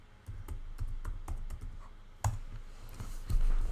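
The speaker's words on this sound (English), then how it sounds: "in here, you can type in fiction." Keys clatter on a computer keyboard in short irregular bursts as a word is typed into a library guide search setup, close and fairly quiet, with a sharper click near the end and no talking.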